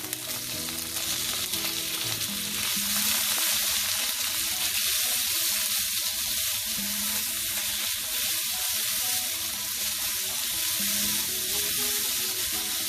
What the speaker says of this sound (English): let's add in our shrimp